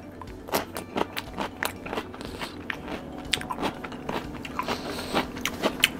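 Fresh food is eaten at a dinner table, crisp crunchy bites and chewing repeating in an irregular rhythm, close and moderately loud, with no talking.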